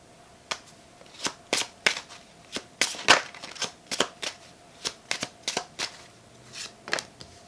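A deck of reading cards being shuffled, a series of crisp, papery riffles and snaps at an uneven pace, close up and alone with no talk.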